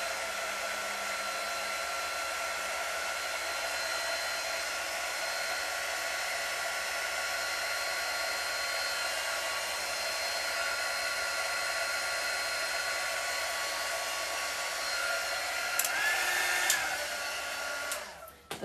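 A heat gun runs on its low setting to dry wall spackling, giving a continuous, even, fan-driven whoosh close by. It is heard alone for most of the clip, with a brief shift near the end as it is moved or switched off.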